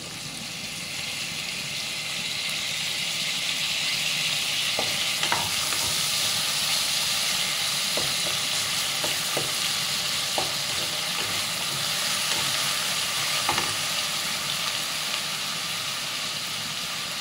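Tomato sizzles steadily in a hot pan while a Tamil white kurma is cooked. Occasional scrapes and clicks come from stirring, and the frying hiss is loud and continuous with no talking.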